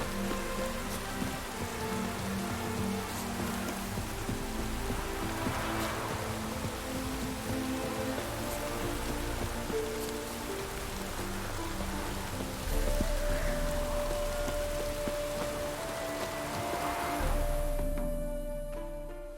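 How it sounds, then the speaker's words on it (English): Rainfall in The Witcher 3 video game, a steady, close hiss of heavy rain pattering on surfaces, dense and continuous, with faint in-game ambience beneath and no talking. "It's raining buckets!"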